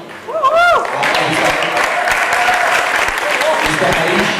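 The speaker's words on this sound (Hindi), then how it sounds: "जोरदार तालियां" Loud audience applause fills a Hindi panel event, steady clapping from a crowd that starts right after a brief voice.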